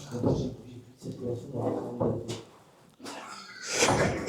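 Drawers in a house slide open and shut in a series of scraping, thumping bursts, close by, with short pauses between them and a voice briefly audible.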